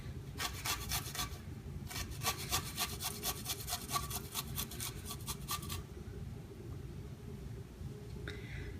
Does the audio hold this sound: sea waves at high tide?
no